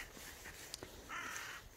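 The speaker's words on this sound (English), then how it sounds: "Noisy crow over there." A crow caws from a tree on a Dartmoor walk toward Manaton Rocks, giving a few faint, distant calls over steady outdoor background noise.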